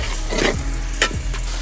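Masala being fried and stirred in a pot at a village picnic cooking session, with a steady sizzle and a few scraping stirs of the spoon against the pot, close and alone.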